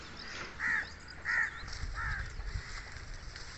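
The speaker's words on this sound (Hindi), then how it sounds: "ये सेंट्रल एशियन स्टारलिंग है जो इस मौसम में आते हैं खजूरें खाने भी" A flock of Central Asian starlings feeding on dates, sorghum and millet in a village with date palms gives three short, harsh calls at moderate distance over a low, steady background rumble.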